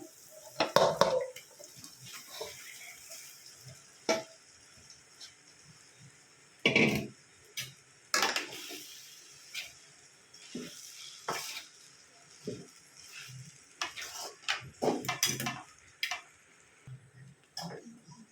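Rice being added and stirred into tomato masala in a pan, heard as a series of close scraping and clattering stirs with a faint sizzle between irregular strokes.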